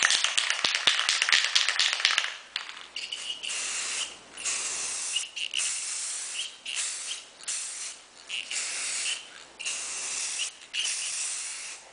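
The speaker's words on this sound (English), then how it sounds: "let's start spray painting" Spray paint going onto a small console table for a crackle finish, in a series of close hissing bursts, an initial rattle then repeated short sprays with brief pauses between them.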